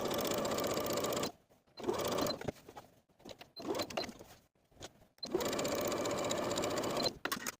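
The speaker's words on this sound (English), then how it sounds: "I'm just going to be edge stitching close to my finishing stitches" A sewing machine runs in steady whirring bursts while edge stitching a summer top, close and clear, stopping and restarting several times with short quiet gaps between runs.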